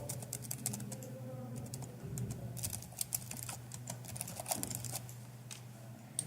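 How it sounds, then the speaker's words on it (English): Fingers type on a computer keyboard in a quiet room, producing a quick, irregular stream of soft, close key clicks with no talking. "I'm typing Maruti Swift"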